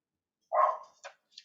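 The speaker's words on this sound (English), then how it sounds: "I don't know if you just heard our dog" A household dog gives one short bark close by, followed by a softer yip and a faint trailing whimper, alone in an otherwise quiet room.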